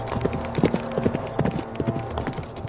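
Rapid hoof clatter of a deer running across the road in front of a car, a close, irregular clip-clop of several quick beats over a low rumble.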